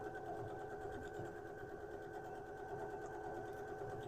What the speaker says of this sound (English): I'm just using a straight stitch here.